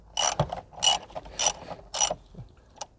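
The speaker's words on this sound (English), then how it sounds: "let's get the ratchet out. Okay, that needs to be set the other way. And just do it until snug." A ratchet clicks through several short strokes while tightening the battery clamp on a Mk2 SEAT Leon Cupra, each burst of close, crisp pawl clicks separated by brief pauses.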